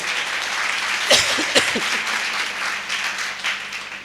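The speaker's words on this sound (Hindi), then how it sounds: "मैं चाहूंगा सर के लिए जोरदार ताली सर" A crowd at a business meeting gives loud, dense applause, with a couple of sharp louder bursts near the start and the clapping continuing steadily underneath.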